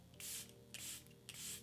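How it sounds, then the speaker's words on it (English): Three quick hissing bursts of Charlotte Tilbury setting spray misted over a face, each a short airy spritz about half a second apart, close and fairly soft. "I'm gonna use the Charlotte Tilbury setting spray."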